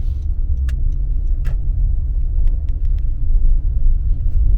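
A car rumbles along on a drive toward Laguna Beach, its low road and engine noise steady and loud inside the cabin, with a few faint clicks and jingles over the top and no one speaking.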